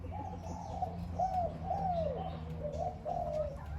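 A dove coos repeatedly in short, rounded phrases, fairly close and clear, over a low steady background hum.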